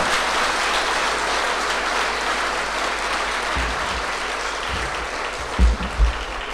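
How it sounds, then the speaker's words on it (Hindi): A church congregation at a healing prayer service applauds in a dense, sustained wash of clapping, loud and continuous, with a few heavier thumps near the end. "तो इसके लिए तालियां बजाइए।"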